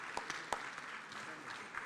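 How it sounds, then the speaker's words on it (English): Brief, faint applause from a conference audience at an African inter-parliamentary gathering on family and values, a soft patter of clapping with a few sharper claps standing out. "Another round of applause for the Chief of Staff."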